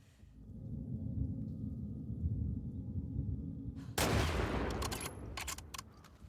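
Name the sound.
loud rifle shot in The Last of Us Part II video game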